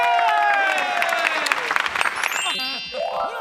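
Studio audience applauding two performers at a Hong Kong TV anniversary gala variety show, a dense wash of clapping that thins toward the end, with a host's voice and bright musical stings layered over it.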